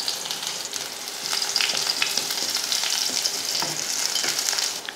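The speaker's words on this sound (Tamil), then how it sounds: "கடுகை வந்து நல்லா பொரிய விட்டுட்டு அதுக்கப்புறமா கொஞ்சமாக வெங்காயம், சும்மா ஒரு 2 சின்ன வெங்காயம்" Mustard seeds crackling and popping in hot oil with a couple of small shallots and a dried red chilli for a chutney tempering, a steady close, bright sizzle with scattered pops throughout.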